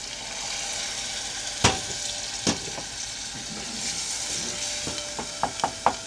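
Chopped onion sizzles in a hot pan as a little water is poured in, producing a low steady hiss broken by a few sharp clinks and taps near the end.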